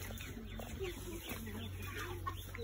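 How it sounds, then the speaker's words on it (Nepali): Chickens cluck along an uphill village trail near Hawaghar, Nepal, their short calls steady and moderately close over outdoor background noise, with a voice faintly present. "कुखुरा हेर"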